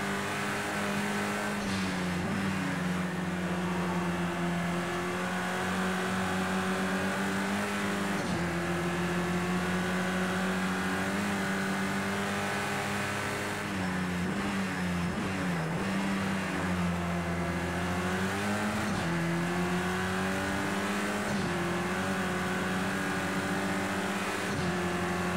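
A touring race car in Project Cars 2 drives around Oulton Park with a steady, loud engine drone whose pitch climbs and drops through gear changes and corners, continuous throughout with no talking.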